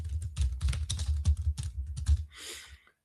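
A name is typed on a computer keyboard in a fast run of close, clicky keystrokes lasting about two seconds, followed by a brief softer rustle.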